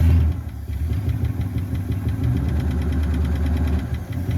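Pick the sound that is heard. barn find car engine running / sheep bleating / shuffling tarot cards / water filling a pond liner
barn find car engine running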